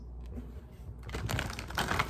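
Tarot cards being shuffled by hand, a soft rustle that turns into a dense, close riffling patter for the second half.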